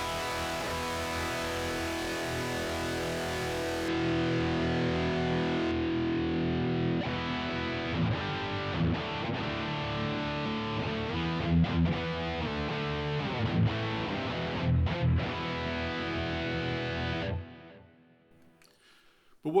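Electric guitar with high-gain distortion through a Boss GX-10, played without a cabinet IR: a thick sustained riff with palm-muted chugs and chords that stops abruptly and rings out.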